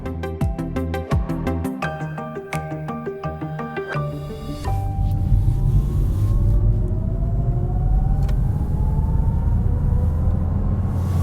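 An Audi e-tron GT electric car on the move, a steady low road rumble joined by a faint rising electric whir after a few seconds of brief music-like tones at the start.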